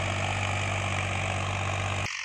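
A Massey Ferguson 245 tractor engine idles steadily with a deep, constant diesel rumble, close and loud, cutting off abruptly near the end.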